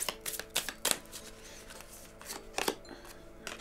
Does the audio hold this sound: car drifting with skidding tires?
no